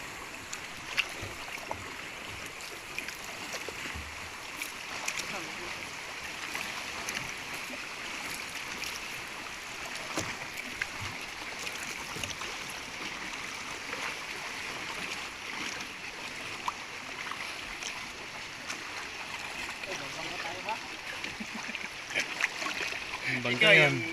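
A small bangka boat moves on the water near a cave, its low wash and hull noise running steadily through the whole stretch, with people talking faintly nearby.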